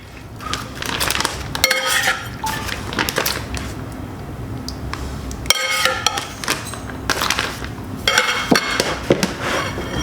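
Utensils clink and scrape against a heavy bowl as succotash stew ingredients are mixed, sharp irregular clatters in bursts with softer stirring between, close and fairly loud, no talking.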